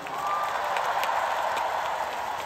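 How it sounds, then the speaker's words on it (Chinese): Concert audience in a roughly ten-thousand-seat New York arena applauding the dancers, a steady wash of clapping and crowd noise with no talk over it. "请大家俾掌声多谢我哋一班 dancers。"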